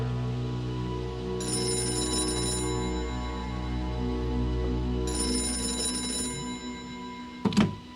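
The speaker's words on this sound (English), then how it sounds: "That phone is about to ring." A telephone rings in the Gray Matter video game, two bright electronic ring bursts separated by a pause, over a low ambient hum, ending with a short thump.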